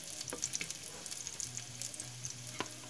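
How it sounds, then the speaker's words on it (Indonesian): Garlic frying in hot oil, a steady close sizzle and crackle with scattered pops and a few stirring scrapes throughout. "Lalu goreng bawang putih"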